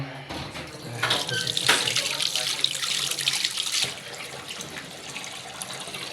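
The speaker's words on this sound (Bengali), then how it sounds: "খাবার শেষ করে এখন হাতটা ধোবো" Tap water runs steadily into a sink while hands are washed after a meal, a broad rushing flow that swells and splashes in the middle and then settles to a softer stream, with no talking.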